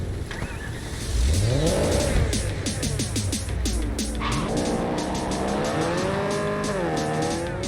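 A car in Cyberpunk 2077 revs hard and accelerates, engine pitch climbing through gear shifts with tires squealing as it skids, loud and close throughout.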